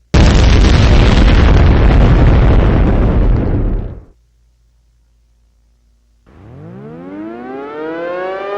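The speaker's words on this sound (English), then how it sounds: "A major explosion has occurred within the Port of Baltimore" A mock emergency alert opens with a loud, roaring explosion that rumbles for about four seconds and cuts off into silence, followed by a civil defense siren winding up and rising in pitch.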